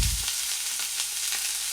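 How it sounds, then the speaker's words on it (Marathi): Chopped coriander fries in hot oil for kadhi, giving a steady, close, bright sizzle with a heavier burst at the start and light stirring clicks after it. "हे तेलामध्ये आपल्याला छान परतून घ्यायचं आहे"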